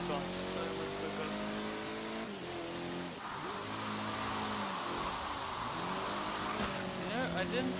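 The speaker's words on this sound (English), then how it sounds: "I'm so used to driving real fast." A car engine revving and shifting in Forza Horizon 3, loud and continuous with rising and falling pitch throughout, while someone talks over it.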